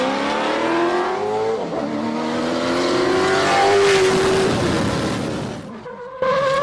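An off-road buggy accelerates at full throttle, its engine climbing in pitch through several gear changes, loud and close, then cutting off briefly before picking up again at the end.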